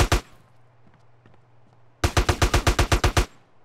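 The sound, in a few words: gunfire in video game Grand Theft Auto: San Andreas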